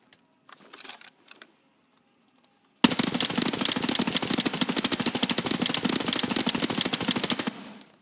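Escape from Tarkov M4 rifle fired in a long unbroken full-auto burst, loud and close, following a few quiet handling clicks and near silence before it.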